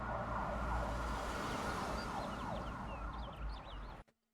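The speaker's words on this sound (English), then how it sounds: "yeah, sirens." Wailing emergency sirens rise and fall in the video game Train Sim World 3 on the Cajon Pass route, sounding over a low rumble until they cut off abruptly.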